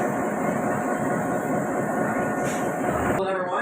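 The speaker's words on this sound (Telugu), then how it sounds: "శాంతాక్రూజ్ బీచ్ ట్రైన్ అంటండి." The Santa Cruz beach train at a California seaside runs past with a steady rumble and hiss throughout, fairly close, with a brief change near the end.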